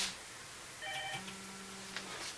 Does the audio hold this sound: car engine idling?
no